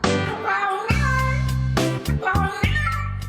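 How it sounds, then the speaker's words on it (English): A cat on a train platform meows loudly several times in a row, long drawn-out complaining cries close to the microphone. "this TikTok meme of an unhappy cat on a train platform, meowing curses"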